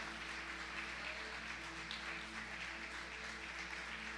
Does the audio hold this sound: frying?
no